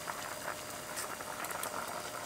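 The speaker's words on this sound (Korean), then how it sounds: "이렇게 해서 양념을 해서 한 20분 정도 더 끓여주면은 요리가 완성이 됩니다." A braise of salted mackerel and radish simmers in a pot, giving a quiet, steady bubbling with soft pops and no voices.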